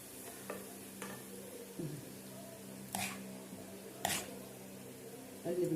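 Garlic being stirred in a pot for Egyptian koshari, soft scraping strokes against the pot at a slow, irregular pace over a faint sizzle, close but quiet.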